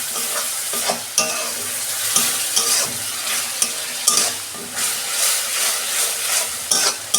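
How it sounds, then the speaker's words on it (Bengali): Spice paste frying and stirred into fried onions in a pan for a vegetable fish curry, with steady close sizzling and repeated scraping stirs in an irregular rhythm and no talk. "পেঁয়াজ ভাজা হয়ে গেছে, আমি যে পেস্টটা করে রেখেছিলাম দিয়ে দিচ্ছি"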